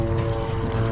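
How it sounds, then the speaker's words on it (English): A mosquito control spraying helicopter flies overhead, its steady, loud rotor and engine drone filling the whole moment without voices. "that's the mosquito helicopter."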